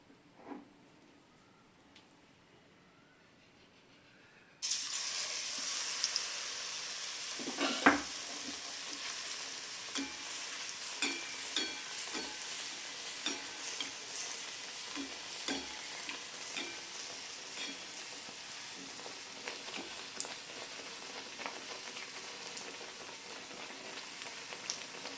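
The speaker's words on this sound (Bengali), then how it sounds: "পরেরটা আমার ঠিক ভাজা হয়ে গেছে মুচমুচে করে" Eggplant fritters (beguni) coated in batter fry in hot oil, a steady close sizzle that starts abruptly and carries crackling pops and occasional stirring clicks. No one speaks.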